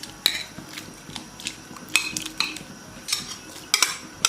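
Chopped ingredients tipped into a pot of water, heard as a close series of metallic clinks and scrapes of utensil against pot and bowl, irregular knocks with brief splashy edges, no voices.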